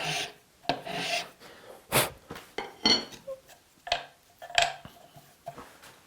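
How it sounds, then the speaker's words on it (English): A metal file rasps along the top edge of a bent-laminated wooden clock piece in a series of short, separate strokes, close and fairly crisp, with pauses between each pass and no talking. "Come back with a file and break that top edge."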